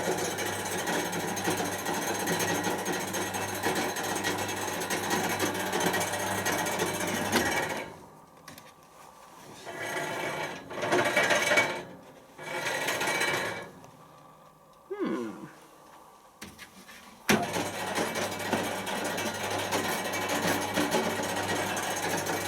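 A C372WV tumble dryer runs with a rumbling, clattering hum, drops to near silence with a few short bursts of noise, then starts up again at full level.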